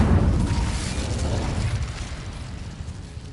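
An Incendio fire spell cast in a Harry Potter video game sets off a loud, close whooshing fiery burst with a deep rumbling boom that slowly dies away over a few seconds.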